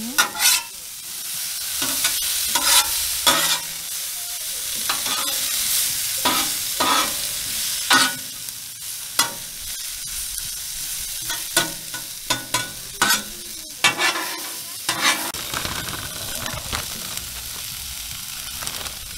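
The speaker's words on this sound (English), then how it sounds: "We'll throw down some butter, some salt, pepper, garlic, and then stir fry" Mushrooms stir-fried with butter, salt, pepper and garlic on a Blackstone 22-inch griddle at a campsite: a steady close sizzle broken by repeated scraping, clattering spatula strokes, with no talking.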